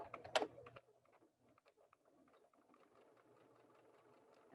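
Sewing machine stitching a short quarter-inch straight seam on pattern weights, a loud burst of stitching up front followed by faint, quick, irregular mechanical ticking and clicks.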